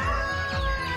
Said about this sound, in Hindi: ये विदेशी मुर्गा है।